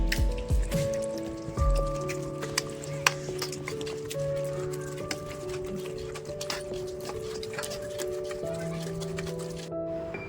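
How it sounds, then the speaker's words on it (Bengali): Wet squishing and dripping as bael fruit pulp is pressed by hand through a strainer, soft irregular squelches and drips close up, with a steady musical tone playing underneath. "এখন আমি এরকম একটা পাত্রে এটাকে ছেঁকে নেব। একটু হাত দিয়ে প্রেসার দিয়ে করলে সব রসগুলো বেরিয়ে যাবে।"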